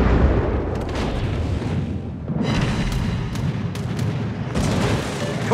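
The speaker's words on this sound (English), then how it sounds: "Concentrate fire on the enemy warship." Naval gunfire and shell explosions in World of Warships, heavy booming blasts rolling one after another with dense low rumble and sharp bursts, loud and continuous, no talk.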